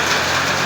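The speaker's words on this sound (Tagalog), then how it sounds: "Maulan na hapon." Steady rain falls on Murit Street on an afternoon, a dense continuous hiss that stays even and fairly loud with no pauses and no voices.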